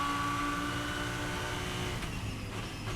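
Racing cars, including a black Lamborghini, roar past on a circuit as a continuous droning engine whine with a shifting pitch, sustained and fairly close.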